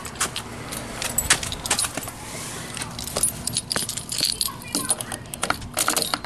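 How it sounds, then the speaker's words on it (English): Keys jangling and clinking close by as a key goes into the ignition of a 3000 watt 72V Kunray electric go kart, a busy run of metallic rattles and taps in irregular bursts. "Key goes in the ignition."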